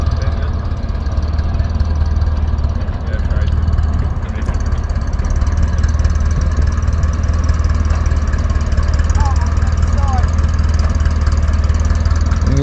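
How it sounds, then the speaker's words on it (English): A Ferguson tractor engine runs at a steady low idle while backing a trailer in a backing competition at a tractor show, a loud, close, continuous diesel chug with faint outdoor background noise. "We got to back the Fergie trailer up using the Fergie tractor."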